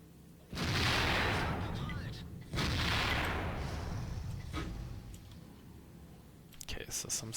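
Two heavy tank cannon blasts in World of Tanks, from a Waffentrager E-100, each a loud booming burst with a long rumbling tail, followed by quieter clicks and small impacts.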